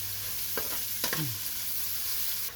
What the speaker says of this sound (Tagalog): ipabrown lang natin yung sibuyas bawang at saka luya